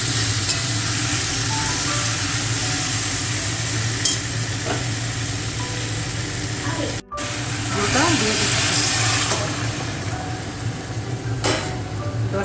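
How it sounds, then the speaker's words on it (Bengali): Fried yardlong beans sizzle loudly in a pan as they are stirred, with a sharp burst of hissing steam when water is poured in midway, followed by continued bubbling and scraping. "এখন আমি আমার ভাজা বরবটি দিয়ে দিচ্ছি দিয়ে হালকা নেড়ে আমি ঝুল দিয়ে দিচ্ছি"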